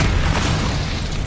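A Confringo blast spell goes off in the video game Hogwarts Legacy as a short, loud, low booming burst with a rumbling body, close and alone.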